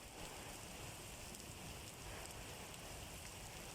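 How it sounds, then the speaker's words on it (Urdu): Summer rain falls on a shed roof in a steady, dense patter that stays even and faint, at a distance, with no voices. "بارش کے قطرے شیڈ کے اوپر گر رہے تھے"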